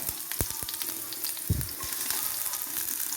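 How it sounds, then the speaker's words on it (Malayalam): Mustard seeds sizzle in hot oil, a constant hiss broken by sharp crackling pops. "ഇനി നമുക്ക് കടുക് പൊട്ടിക്കാം"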